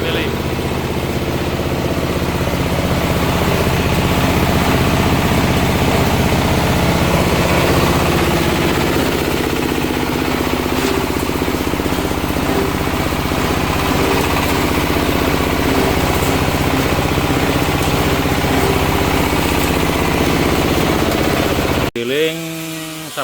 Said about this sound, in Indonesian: Giling sabut kelapa pakai saringan 12 mili.